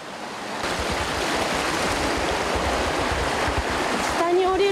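River rushing through the Hanazono gorge in Kitaibaraki, a steady broadband roar of flowing water heard close and loud throughout, with a faint high tone near the end.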